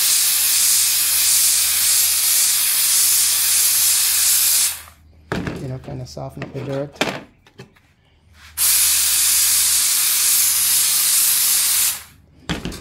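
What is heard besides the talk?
steam cleaner hissing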